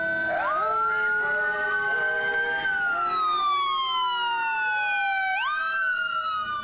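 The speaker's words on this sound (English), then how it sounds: "Here comes the fire engine." A fire engine siren wails loudly and continuously, its layered tones sliding slowly down and then jumping back up as it passes close by.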